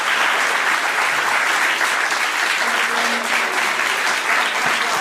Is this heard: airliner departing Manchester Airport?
no